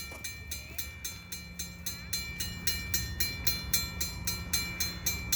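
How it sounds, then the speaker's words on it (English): An EXO electrified MR90 commuter train pulls into Grand Moulin station, its wheels clacking in a steady rhythmic pattern over rail joints amid a low rolling rumble, fairly faint and heard alone. "we have a train headed towards Deux Montagnes coming into the station here"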